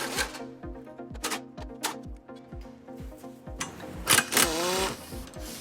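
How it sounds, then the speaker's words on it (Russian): Unbolting the rear engine mount from the subframe of a Mitsubishi Lancer Evo X produces a fast run of rhythmic ratcheting clicks, close and fairly quiet, with a brief louder scrape of metal near the end. "Откручиваем от подрамника заднюю опору силовой установки."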